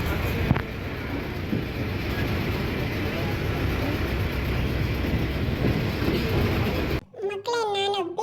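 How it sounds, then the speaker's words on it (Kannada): A metro train at Vidhana Soudha station in Bengaluru makes a continuous, loud rumbling roar for about seven seconds, then cuts off as a voice speaks. "ಇದು ಮೆಟ್ರೋ ಸ್ಟೇಷನ್ನು. ವಿಧಾನಸೌಧ ಮುಂದುಗಡೆನೇ ಬರುತ್ತೆ."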